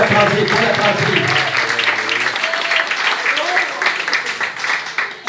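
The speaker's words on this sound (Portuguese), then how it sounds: "Pode aplaudir, pode aplaudir, pode aplaudir." Congregation applauding during an Assembleia de Deus church service, a steady wash of clapping throughout with singing or voices layered over the start.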